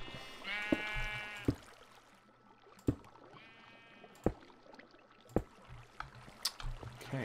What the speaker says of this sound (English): Right, out of the way, sheep.